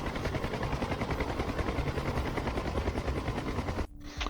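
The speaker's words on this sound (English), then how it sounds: "here's one of the military choppers that's circling the circuit today, trying to keep up security" Military helicopter circling over a race circuit in the DCS flight game, a close, loud, rhythmic rotor chop pulsing continuously before briefly cutting off near the end.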